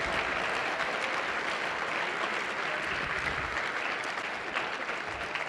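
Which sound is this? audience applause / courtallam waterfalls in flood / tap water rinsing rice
audience applause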